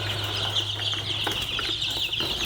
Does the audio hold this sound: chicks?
yes